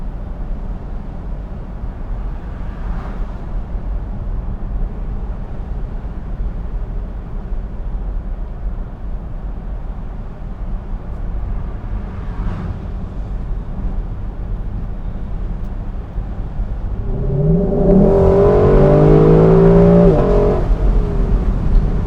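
A 2021 Lexus LC 500 Convertible with a V8 engine driving at night in normal mode, a steady low engine drone from inside the car, with two faint brief blips and then a rising rev that swells louder near the end.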